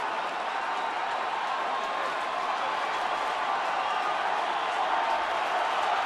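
Nearly 30,000 fans filling a baseball stadium at a San Diego Padres game, a dense, steady crowd murmur and roar heard from within the stands.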